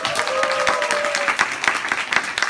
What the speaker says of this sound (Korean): 먼저 박수 한번 칠까요